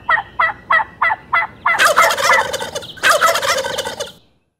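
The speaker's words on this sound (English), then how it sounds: "listening to the sounds of a big old tom turkey gobbling his head off and calling back and forth with the hens" A wild tom turkey calls outdoors, starting with six quick evenly spaced clucking notes before breaking into two loud, rattling gobbles, close and clear, in rain and wind.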